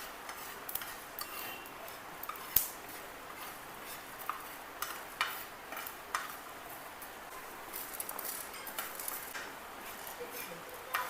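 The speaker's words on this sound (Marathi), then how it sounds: "तर यामध्ये मी फुटाणे, हरभरा डाळ, तांदूळ आणि आपले धने हे सर्व भाजून घेतले एकत्र" Coriander seeds, roasted chana, chana dal and rice are dry roasted together in a pan, with quiet, irregular scraping and ticking from stirring, and no talking.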